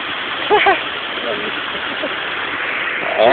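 A waterfall and stream rush in a steady, even wash of flowing water, with people talking over it.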